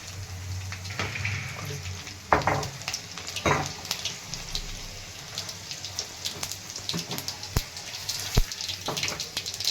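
Mustard seeds, cumin and garlic sizzling in hot oil for a dal and brinjal dish: a close, steady crackling hiss dotted with sharp pops and spits.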